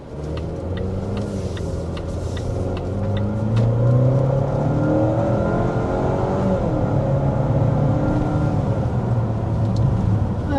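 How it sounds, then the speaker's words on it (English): A 2026 Volvo XC60 B5 under hard acceleration from inside the cabin, engine note climbing through rising pitch sweeps over steady road rumble and building in loudness, no talking. "we need to go ahead and start with a hard acceleration"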